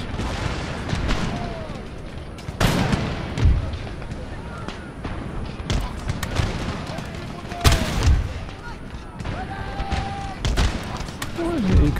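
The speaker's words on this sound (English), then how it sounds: "It's probably those mortars that are doing it." Mortar and artillery fire in the Empire: Total War battle at Baghdad, recurring heavy booms and gunfire cracks at uneven intervals under a steady battlefield din, with someone talking over it.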